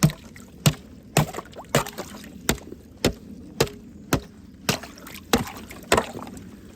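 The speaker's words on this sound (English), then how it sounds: "I just thought I would observe how the Highlands break the water themselves with their head." Highland cattle break frozen ice on their water with their heads, a series of about a dozen sharp cracking knocks and splashes spaced roughly half a second apart, close and loud over a quiet outdoor background.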